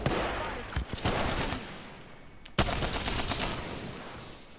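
Peacekeeper gunfire in a video game rattles in dense, rapid bursts. The sharpest cracks land near the start and about halfway through, and the shooting stays loud and nearly unbroken.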